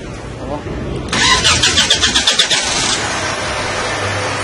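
A 2000 Hyundai Elantra cranks with a quick series of rhythmic starter whirs before the engine catches and settles into a steady close idle, over faint background noise.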